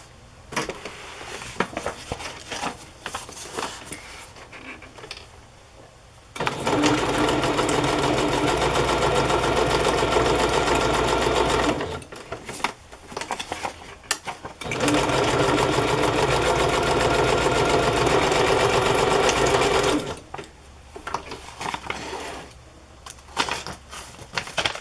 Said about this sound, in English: And this is coming unglued, so I am going to sew it.